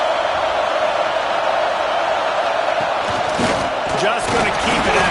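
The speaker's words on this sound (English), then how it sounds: "Listen to this crowd just shaking the girders of this place trying to help their defense." A stadium crowd at a Georgia vs Texas A&M college football game roars loudly and continuously, a dense wall of cheering that swells near the end, with a commentator's voice faintly underneath.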